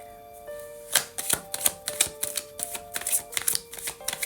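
Tarot cards are shuffled in a string of quick, crisp riffling and slapping bursts over a faint steady tone, close up and with no talk.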